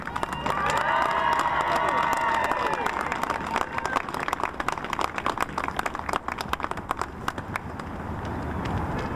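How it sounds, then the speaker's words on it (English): Sustained audience applause and cheering at a Pittsburgh Bureau of Fire firefighter graduation ceremony, thick clapping throughout with voices mixed in, easing slightly toward the end. "Let's hear some applause."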